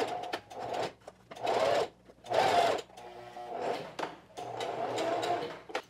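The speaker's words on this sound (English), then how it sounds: "Now I'm going to sew across this end." A home sewing machine stitches across the end of a knit neckband in several short bursts of rapid mechanical whirring, close and fairly loud, separated by brief pauses.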